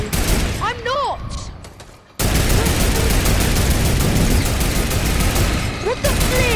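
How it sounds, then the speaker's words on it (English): Dense rapid gunfire in the video game Fortnite, a loud continuous fusillade of shots filling most of the clip after a brief quieter stretch, with voices talking over it. "Ollie, stop! You're shooting at me!"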